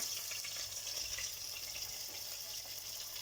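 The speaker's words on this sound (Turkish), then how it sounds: "şimdi hamurumuzu dökelim" Batter pours in a continuous soft hiss and trickle, steady and close, with no talking.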